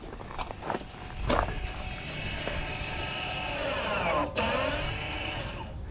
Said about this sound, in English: That right there was the brake caliper finding its stops.